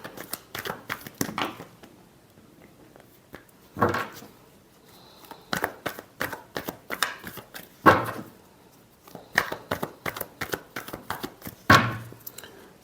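Tarot cards are shuffled by hand in a series of sharp riffling bursts and soft slaps, irregular and close, separated by quiet pauses.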